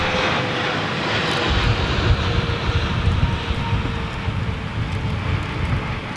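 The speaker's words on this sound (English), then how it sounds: "Saudi Arabian Airlines 777." A Saudi Arabian Airlines Boeing 777 at London Heathrow, a loud broadband jet engine roar that swells and then holds steady, heard from nearby with some wind noise.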